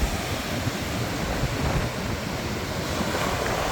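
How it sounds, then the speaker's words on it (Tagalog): Sea waves wash onto the sandy shore of Morong Beach in Sabtang, Batanes, a steady, close surf roar with wind buffeting the microphone throughout and no talking. "Tingnan natin yung dagat."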